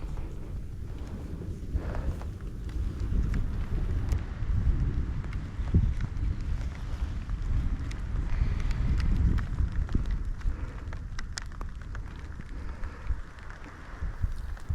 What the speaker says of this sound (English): The weather is windy and rainy.